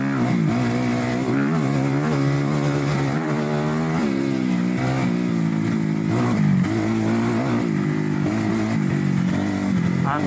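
Dirt bike engine droning and revving while being ridden by a beginner, a loud, close, continuous motor note that rises and falls with the throttle throughout.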